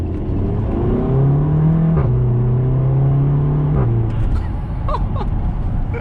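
A Stage 1 remapped Audi TT 2.0 TFSI Quattro Mk3 pulling hard under acceleration from inside the cabin, a loud, steady engine drone climbing in pitch, dropping briefly at a gear change, then building again.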